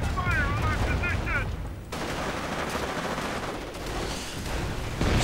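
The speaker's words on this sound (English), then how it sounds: "Stormtroopers getting grenaded," Grenades and gunfire hitting Stormtrooper infantry in a World War II strategy game, with rattling bursts of small-arms fire and dull explosive thuds under continuous battle noise and commentary.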